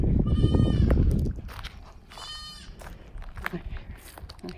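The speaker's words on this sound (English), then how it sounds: "I hear the goats." Goats bleat on a farm where a barn site is being prepared. Two loud, quavering bleats sound close by, the first long and the second shorter, with crunching footsteps and rustling between them.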